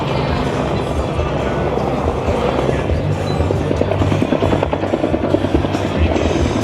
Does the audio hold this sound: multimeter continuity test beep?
no